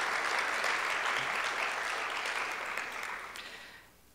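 Steady, dense applause from a large audience, sustained for several seconds and then fading out at the end.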